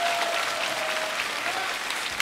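Audience applause greets the host stepping onto the stage at a Korean art song festival, a steady roar of many hands clapping that holds level throughout, with a faint sustained tone beneath and no speech.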